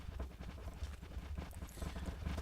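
Horses in the Minecraft video game clip-clop steadily, a brisk run of hoof steps with a low rumble of movement underneath, continuous and fairly close, with no talking.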